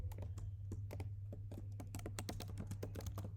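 Fast, steady typing on a computer keyboard while writing code, with many dense key clicks over a low background hum and no talking.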